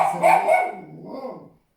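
Pet dogs barking indoors, a couple of loud, close barks followed by a quieter yelp that trails off into silence.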